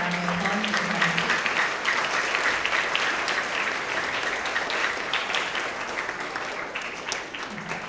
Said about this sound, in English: Another thank you to all of our science Tigers of the Quarter and a round of applause for them.